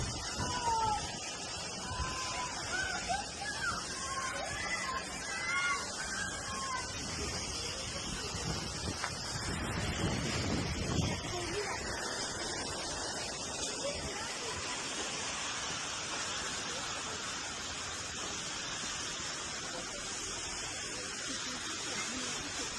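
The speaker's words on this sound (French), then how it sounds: "on va se rapprocher de la cascade. Hop, on entend l'eau." A waterfall's steady rushing water fills the scene as someone approaches it outdoors, a broad continuous roar with light wind buffeting the microphone and no clear speech.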